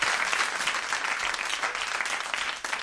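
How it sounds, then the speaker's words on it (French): A studio audience at a French radio show breaks into dense, steady applause that fills the room evenly from start to finish, close and bright, with no voices above it. "On peut applaudir quand même Laura parce que bravo."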